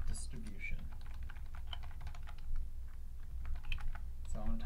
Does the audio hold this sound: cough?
no